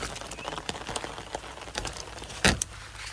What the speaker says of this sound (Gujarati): હા જો વરસાદ દેખાય છે ને. વરસાદ પડો ભાઈ.